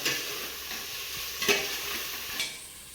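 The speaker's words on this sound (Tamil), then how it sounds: "ஒரு ரெண்டு நிமிஷம் நல்லா கிளறி விடுங்க" Ginger garlic paste is stirred in a pan over low heat for a chicken biryani cooking in coconut milk. A soft continuous sizzle comes with scraping strokes and a few sharper utensil knocks against the pan.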